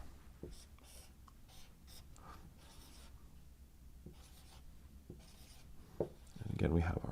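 A pen or marker scratches and squeaks across a surface while an orbital diagram for a hydride shift is drawn by hand, in short strokes with pauses, ending in a louder rubbing burst.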